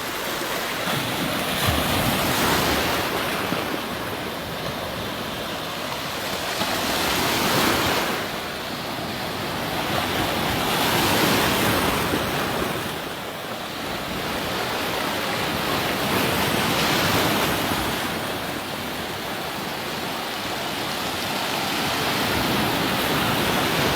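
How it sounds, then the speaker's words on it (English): Ocean waves break along a coastline near Port Ferdinand and Six Mens Bay, a continuous loud roaring surf that swells and recedes in slow surges, with wind buffeting the microphone. "Have a look at this beautiful coast and a lovely ocean down here at the moment."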